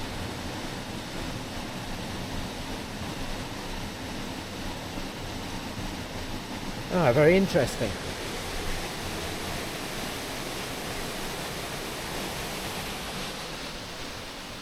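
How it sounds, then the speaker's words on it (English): Small waterfalls on a walk near Rydal Hall in Cumbria give a steady, soft rushing wash of falling water throughout, with a brief spoken remark partway through. "You've got lots of little waterfalls going on."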